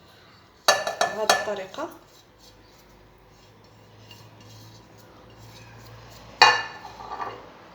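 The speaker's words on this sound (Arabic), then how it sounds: "غادي نوضع عليها ملعقه صغيره من الكمون" A metal teaspoon clinks against a dish while cumin is added to cloves, two short bursts of sharp clinks separated by quiet, with someone speaking briefly.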